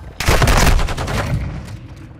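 A loud, close burst of rapid automatic gunfire in Modern Warfare 2 rattles off over about half a second, then trails away into a fading echo.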